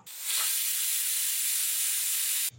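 A pressure cooker whistle lets off a loud, steady hiss of steam for about two seconds while dal cooks on a medium flame, cutting off abruptly at the end.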